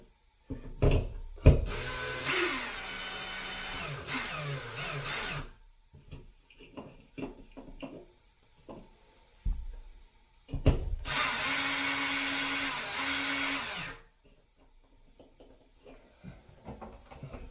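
A power drill drives the fasteners of a Moen 5-Series bidet toilet seat in two long whirring bursts, separated by clicks, taps and handling noises close by.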